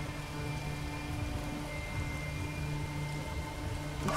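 Steady rain falls through a thunderstorm in the horror game Spider: Rite of the Shrouded Moon, a constant quiet hiss with no distinct thunder clap.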